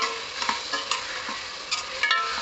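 Ginger-garlic paste and tomatoes stir-fried in a triply steel pot, with a spatula scraping and tapping at an uneven rhythm over a constant hiss of frying.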